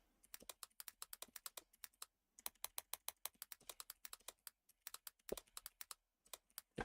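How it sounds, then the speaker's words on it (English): Typing on a computer keyboard, quiet and close, with rapid uneven runs of sharp key clicks, a brief pause near the middle, and no voices. "Typing. Give me a minute."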